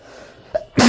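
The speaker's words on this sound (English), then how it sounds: "I had to sneeze." One sharp sneeze bursts out close and loud after a short inhaled catch, heard by itself with no talk over it.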